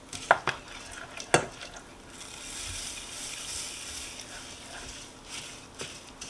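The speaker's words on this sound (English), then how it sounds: "So now I'm adding my 3 cups of quick oats, a little at a time." Quick oats are stirred into a melted chocolate and peanut butter mixture in a pot on the stove. Two sharp utensil knocks are followed by soft, faint scraping and stirring.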